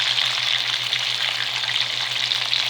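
Chicken pieces frying in a pan, a steady bright sizzle with a low hum underneath, continuous and close.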